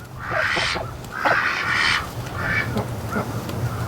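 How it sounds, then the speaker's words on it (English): Several crows caw overhead near a backyard duck pen, harsh calls in quick bursts, some loud and close, others fainter, over a low background hum. "Lots of crow action."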